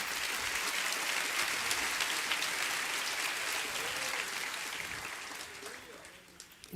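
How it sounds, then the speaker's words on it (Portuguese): A church congregation applauds during a Portuguese-language sermon, a dense, continuous wash of clapping that holds steady for several seconds before gradually thinning and fading out. "Se é para Jesus, você pode aplaudir."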